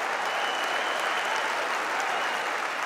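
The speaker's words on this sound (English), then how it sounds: "I just love the noise of the fans, the crowd, it's brilliant" Steady, dense applause and crowd noise from football fans filling a stadium, a continuous broadband wash of clapping with no breaks, heard from a distance.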